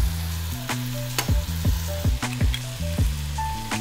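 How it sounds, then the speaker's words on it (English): Spiced meat filling with cinnamon, black pepper, salt and an egg fries loudly in a pan, with repeated rhythmic scrapes and knocks of a spoon stirring it over a constant sizzle and low hum. "Stir it all together till that meat is cooked through."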